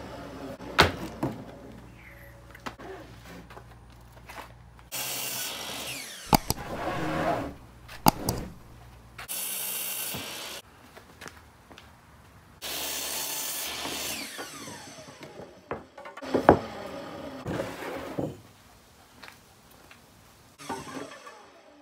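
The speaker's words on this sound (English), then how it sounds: "we'll start off by cutting 30-inch pieces, 30-inch boards off a 1x6." A saw cuts 1x6 lumber into 30-inch boards in a workshop, loud bursts of cutting lasting a few seconds each, separated by quieter handling knocks and clatter of wood.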